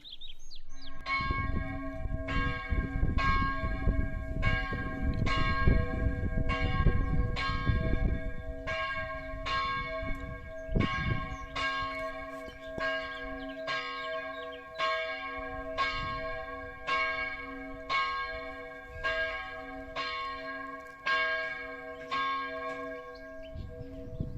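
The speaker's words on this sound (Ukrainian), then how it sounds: "Дзвін був встановлений в 1585 році і періодично використовується дотепер." The church bell of Hochosterwitz castle in Austria, installed in 1585, tolls in steady, evenly spaced strikes, about seventeen in a row. Each stroke rings on with a long, resonant hum, and faint birdsong can be heard in the background.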